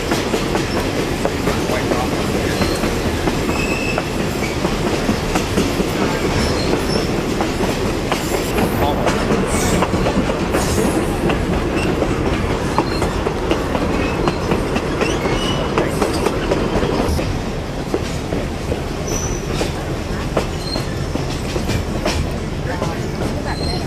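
A Conway Scenic Railroad train rolls along the rails with a steady, loud rumble and rhythmic clickety-clack of wheels over joints, continuous throughout.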